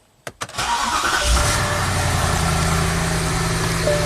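A BMW engine cranks with a few sharp clicks, then catches and settles into a steady, loud idle hum close to the listener, with no one talking.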